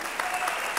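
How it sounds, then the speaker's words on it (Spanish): Theatre audience applauding the crew during a live comedy show at Pavón Teatro Kamikaze, a brief burst of steady, dense clapping filling the room. "Un aplauso para los compañeros"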